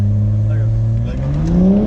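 A Subaru WRX engine climbs in pitch as it revs and accelerates, a loud, close rising drone lasting under two seconds with no speech over it.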